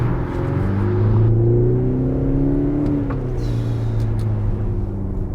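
Audi SQ5 diesel SUV accelerating under paddle-shift control, a loud engine note rising and falling through gear changes, heard close from inside the cabin.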